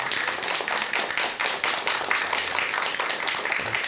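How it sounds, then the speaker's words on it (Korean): An audience claps together in sustained applause that stays dense and even for the whole stretch. The sound is fairly loud and close, with no speech over it. "다시 한번 박수 부탁드리겠습니다"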